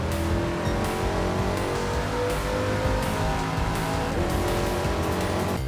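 Chaparral 2J race car in Gran Turismo 7 at Watkins Glen, its engine roaring loud and steady at high revs, with tire squeal mixed in and no voices.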